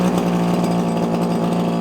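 A warmed-up Komatsu Zenoah strimmer engine, recently fitted with a new diaphragm, runs close by with a loud, steady, buzzing two-stroke drone and no voices.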